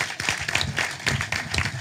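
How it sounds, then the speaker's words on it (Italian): Applause at a press conference for Vita Ippolito, a mayoral candidate, sounds as irregular bursts of hand clapping from a modest crowd, rising and falling in uneven waves. "Facciamo l'applauso giusto a Vita"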